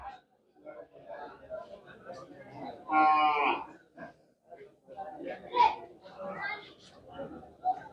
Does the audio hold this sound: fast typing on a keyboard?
no